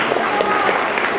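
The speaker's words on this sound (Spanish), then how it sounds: "Y otra vez un aplauso, por favor." An audience at a talk gives a short burst of dense, even applause, close and fairly loud.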